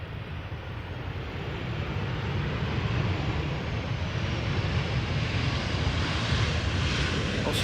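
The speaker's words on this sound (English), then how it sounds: "Next up, Transavia 737-800, arriving from Thessaloniki" Transavia Boeing 737-800 on final approach and landing at Amsterdam Schiphol Airport, its engines a loud, steady broadband roar that holds close throughout.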